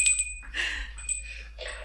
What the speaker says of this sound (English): It was the soup bell.